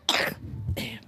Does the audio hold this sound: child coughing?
yes